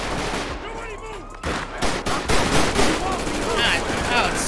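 Rapid bursts of gunfire in the video game GTA 5, dense and loud, mixed with game noise and overlapping speech throughout.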